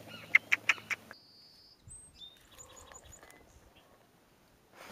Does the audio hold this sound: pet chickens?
yes